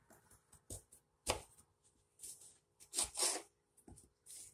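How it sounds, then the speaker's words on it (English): A knife chops firm yams in half on a cutting board, giving a string of separate, crisp knocks at an uneven pace. The sound is close and fairly quiet, with silence between the cuts. "yams, like if you're dicing them, you just cut them in half, and then you put the flat end down."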